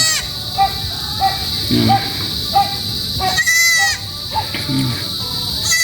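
Newborn goat kids bleat in repeated short, high cries, one crying insistently, close by in a pen with some faint talk and a steady background hiss.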